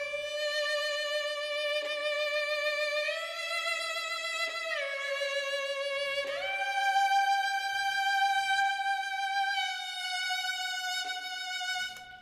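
Sustained, sampled violin chords glide through a slow progression, shifting harmony every couple of seconds, played smoothly and evenly with no voices.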